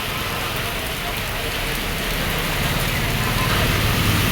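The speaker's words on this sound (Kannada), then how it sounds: "ಸೊ ದುರ್ಗದ ಬಸ್ ಸ್ಟ್ಯಾಂಡು ಫುಲ್ ಮಳೆ ಬರ್ತಿದೆ" Heavy rain pours at the Durga bus stand, a loud, steady broadband roar of falling water that runs unbroken the whole time with no voices.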